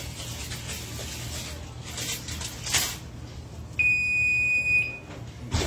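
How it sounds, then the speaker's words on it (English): A kitchen oven timer beeps in a steady, loud high tone for about a second near the end, sounding over faint background room noise. "Timer just went off."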